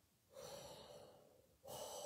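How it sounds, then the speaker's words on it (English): Deep, hollow breaths drawn through an open mouth, shaped like an 'O' vowel so they echo like Darth Vader's breathing. Two long, close, moderately loud inhales with a short pause between them, and no talking. "It's like a Darth Vader breath."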